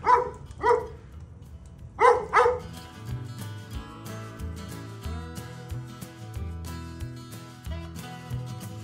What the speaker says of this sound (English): What is this dog doing?